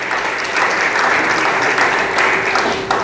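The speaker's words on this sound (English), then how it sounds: "I want to pause there just to give another clap" An audience at a graduation ceremony claps in sustained, dense applause that stays loud and even throughout, with faint voices underneath.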